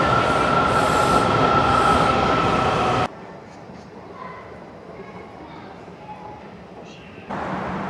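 A Washington DC Metro subway train runs loud and close on the way to Glenmont Station, a dense roar and rail hiss that drops abruptly to quieter interior rumble midway before rising again; a voice speaks over it.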